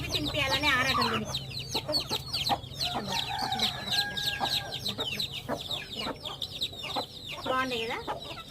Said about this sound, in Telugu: ఇది కోడి పిల్లలు తొవ్వి తినిపించాలని ఆరాటం దీనికి.